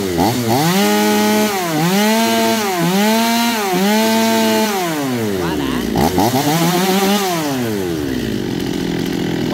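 A Komatsu G3700 chainsaw engine runs loud and close, revving up and down repeatedly in rising and falling whines before settling toward idle.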